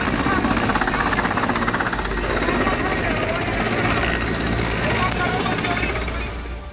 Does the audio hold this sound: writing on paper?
no